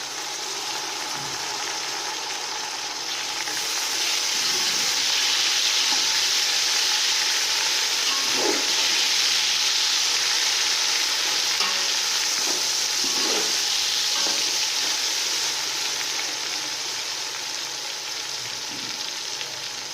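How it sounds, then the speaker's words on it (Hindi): Tomatoes fry in a hot pan for chana pulao, making a loud continuous close sizzle with a few soft stirring clinks and no voices. "अब हम टमाटरों को 1 मिनट के लिए फ्राई करेंगे।"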